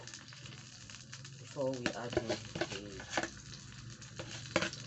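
Peppers and tomatoes cooking together in a pot with no added water, giving a soft continuous sizzle up close, with a voice speaking over it and occasional stirring clatter.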